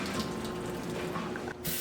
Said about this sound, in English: So now all we gotta do is just dump all of this out.